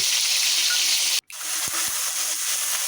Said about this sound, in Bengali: মশলাটাকে ভাজতে থাকবো ভাজা ভাজা হয়ে আসলে